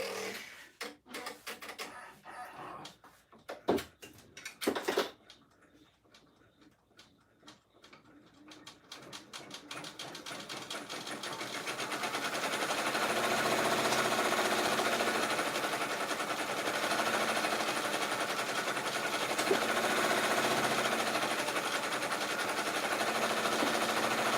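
An embroidery-capable sewing machine stitching a six-colour design, heard as a steady, dense whirring drone that builds in after scattered clicks and handling noises in the first few seconds, close and continuous.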